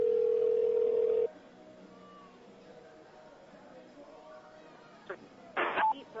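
A steady telephone dial tone hums for just over a second during a call-back attempt at a roller derby bout between the Abilene Bombers and Amarillo Venom, then cuts off, leaving quiet room noise and a couple of brief bursts later.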